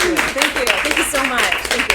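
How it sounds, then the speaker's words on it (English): Clapping at a racial equity map launch event: scattered hands clap near and loud at an uneven rhythm while a speaker talks over them. "This is when the applause button would be going."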